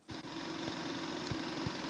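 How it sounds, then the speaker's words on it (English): A lawn mower runs steadily in the distance, a faint continuous engine drone with no voices over it. "Someone mowing their lawn."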